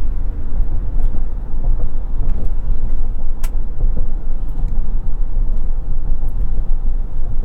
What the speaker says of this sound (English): the loudest thing we found on the highway and driving this thing around in general is wind and tire noise